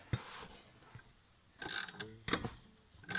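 A Chevy 6.5 diesel engine is slowly turned over by hand at the alternator, giving a few sparse mechanical clicks and ratcheting clunks in short bursts amid quiet gaps.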